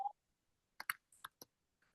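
A few scattered keyboard key clicks from someone typing at a computer, faint and sparse, with quiet gaps between small clusters of taps.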